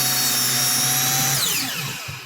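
Power saw cutting into a wooden board clamped securely in two places for a round coffee table build, a loud close whine that drops in pitch as the blade bites through the wood, then winds down.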